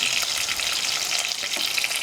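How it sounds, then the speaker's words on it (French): Spices being stirred together in a pan off the heat while preparing coconut chicken, a steady close scraping and sizzling hiss running the whole time with no talk. "Moi, je vais mélanger mes épices."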